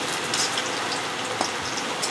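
Papad fries in hot oil with a dense, steady crackling sizzle, close and even, with faint sharper pops.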